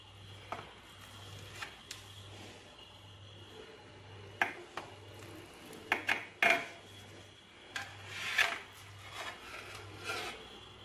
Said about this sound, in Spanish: Vamos a cortar un cachito.